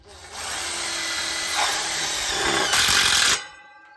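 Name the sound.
power drill driving screw into bracket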